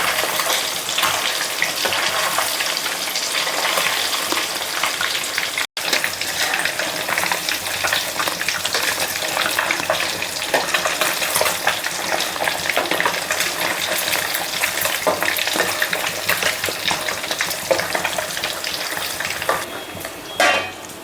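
Fish pieces fry in hot oil in a pan, giving a loud, steady sizzle that runs unbroken for about twenty seconds apart from one brief dropout early on, with no talking.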